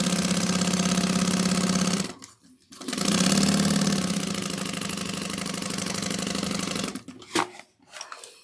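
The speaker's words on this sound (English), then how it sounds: "we're going to top stitch using 1/8 of an inch, back stitching in the beginning and end" A sewing machine top stitches a clear vinyl trick-or-treat bag with a loud, close, steady whir, pausing briefly, then running again before a few short back-stitching bursts at the end.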